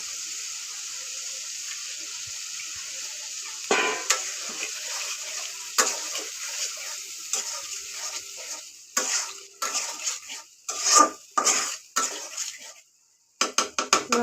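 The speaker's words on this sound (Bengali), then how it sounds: "আমি এবার মাছগুলোকে ভালো করে কষিয়ে নিব" Pieces of rohu fish sauté in a pan with a continuous bright sizzle, and a spoon scrapes and clatters against the pan in irregular strokes that grow louder and choppier toward the end.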